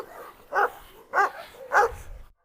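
A Cane Corso barking at a Karabash dog: three short, evenly spaced barks fairly close by, with quiet gaps between them.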